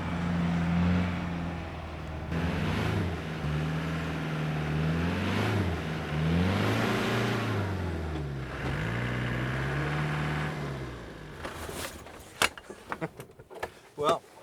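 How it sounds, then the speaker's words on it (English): A car driving off-road across Sahara desert sand, engine droning and rising and falling in pitch as it shifts up through the gears, steady and fairly near, with a few knocks and clunks at the end. "pull away in second and try to get into third quickly, but you have to build up momentum"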